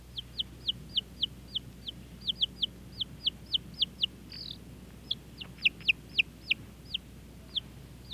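Baby chick on a tape recording, cheeping alone in a rapid, slightly irregular series of high, bright peeps, about twenty in eight seconds, clear over a faint low hum.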